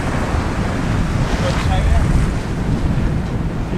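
Sailboat coming into Plymouth harbour, with heavy, steady wind buffeting the microphone over the wash of water along the hull; a voice is faintly present beneath the roar.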